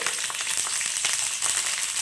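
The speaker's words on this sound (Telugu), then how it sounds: "ఇందులో వెల్లుల్లిపాయ వేస్తున్నానండి" Garlic crackles and sizzles steadily in hot oil, a dense, bright hiss that stays loud throughout.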